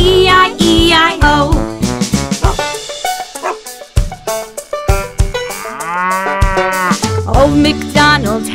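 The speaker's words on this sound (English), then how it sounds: "And on his farm he had a cow, E-I-E-I-O. With a moo moo here and a moo moo there" Cow mooing amid the music of a children's Old MacDonald farm song, several loud moos and moo-like calls woven through the upbeat instrumental backing, with no speech.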